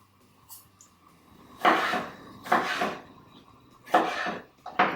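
Kitchen knife roughly chopping tomatoes on a cutting board while dal and roti are prepared, four loud separate thudding bursts close by with short gaps and no talk.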